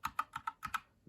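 Typing on a Havit mechanical keyboard fitted with red switches: six crisp, evenly spaced key presses in quick succession, close and clear with no talk, followed by the start of a seventh.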